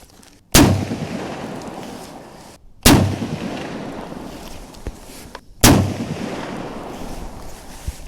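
A restored Remington 1942 Springfield 1903 rifle fires three loud, sharp shots at a range, spaced about two and a half seconds apart, each with a booming report that decays into echo, no talking.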